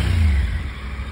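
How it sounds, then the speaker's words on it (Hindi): A 2024 Triumph Tiger 900 Rally Pro motorcycle engine heard up close, a loud, low rumbling idle that swells briefly at the start and then settles into a steady throb. "One more thing that has changed in this motorcycle is the sound of the motorcycle."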